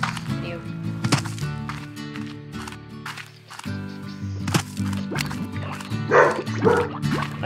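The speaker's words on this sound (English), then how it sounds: "sorry for the barking in the background" Dog barking in the background of a house, a string of sharp, fairly loud barks and yips scattered irregularly over a steady musical bed.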